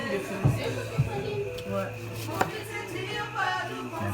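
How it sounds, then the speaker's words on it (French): Onions being chopped on a board in a home kitchen, with a few distinct knife knocks scattered through steady background chatter and voices talking throughout. "allez, coupe les oignons"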